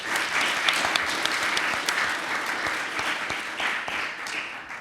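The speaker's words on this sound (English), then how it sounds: "I would like to give them a big applause." Sustained, dense applause from a symposium audience at a bioethics panel on stem cell-derived embryo models fills the room evenly, with many hands clapping close together and no talking over it.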